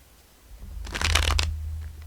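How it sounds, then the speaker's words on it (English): A deck of crystal-themed oracle cards is shuffled once, a short, close riffling burst of about a second that rises from a quiet room and then fades. "let's pull from the crystal cards"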